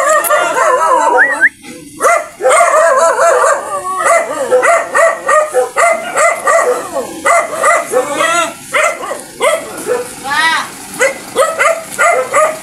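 Several dogs bark and yip noisily near a garbage bin on a street in the Philippines, a steady run of overlapping barks and whines over about thirteen seconds, with people talking throughout.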